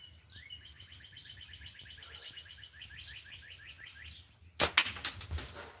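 A bird sings outdoors in a long run of rapid, repeated chirping notes, fairly close and steady for several seconds, then a sudden loud burst of rustling noise cuts in near the end.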